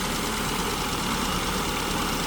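An engine idles steadily while its idle mixture is being adjusted, a continuous loud low rumble with no change in pace and no talking.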